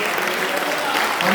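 A church congregation claps in a continuous, even wash of applause, loud and close, with no speech breaking through.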